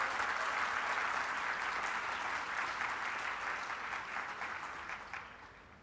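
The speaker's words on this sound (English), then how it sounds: "Yeah, applause please." Audience applause for Googlers at a Mumbai welcome address, a dense, steady clatter of many hands clapping that holds strong and then slowly tapers off, with no talking over it.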